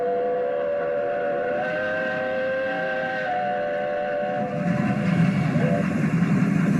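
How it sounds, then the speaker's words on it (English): A steam locomotive on a scenic railway sounds a long, sustained whistle with steady tonal harmonics over a continuous rumble of running gear, the rolling noise growing heavier near the end. "Rope is passing by with the train."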